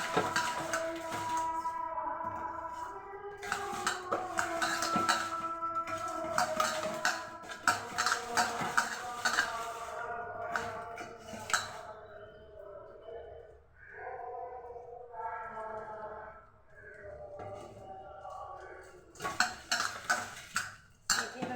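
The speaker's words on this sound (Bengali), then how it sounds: "বেগুনের সঙ্গে এভাবে ভালোভাবে মাখিয়ে নিতে হবে।" Brinjal slices are tossed with chilli powder and spices in a bowl, giving repeated soft clinks and scraping stirs in uneven bursts, close and fairly quiet, with short pauses between rounds of mixing.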